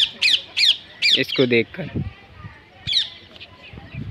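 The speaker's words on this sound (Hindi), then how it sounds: "पीछे देख सकते हो आप पैरट सुबह सुबह बोल रहे हैं भाई।" Parrots squawking in the morning near trees with a beehive, several loud harsh calls in quick succession followed by a later one, while someone talks briefly in the middle.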